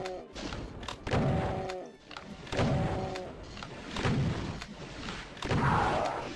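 Heavy booming shots fired at Hell Knights in the video game DOOM, a series of deep thuds spaced about a second apart, loud and close, with game sounds between.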